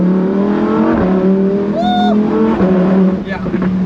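A Lamborghini Spyder accelerates hard in Corsa mode, its engine note rising loudly and close with abrupt breaks at each gear shift, while a voice comes through under the roar.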